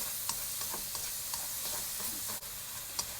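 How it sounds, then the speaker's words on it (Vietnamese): Small shrimp, lightly salted, stir-fried in a pan: a steady close sizzle runs throughout, punctuated by a few sharp spatula taps and scrapes against the pan. "Mình xào cho nó vừa chín tới vậy thì mình lấy ra"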